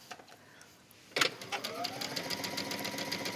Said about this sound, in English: I'm just gonna stitch, and where I'm stitching, it's just on the edge right here